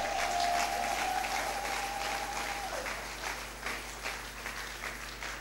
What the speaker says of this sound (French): Est-ce qu'on peut acclamer pour dire merci à Dieu?